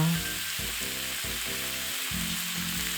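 Sliced beef and vegetable rolls sizzle in a hot pan, a steady close frying crackle with soft low thuds of pieces being turned over.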